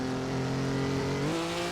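A high-power, low-downforce race car in a racing sim drones at steady high revs as it spins out. The engine pitch shifts near the end and tire noise sits underneath. It is loud and continuous.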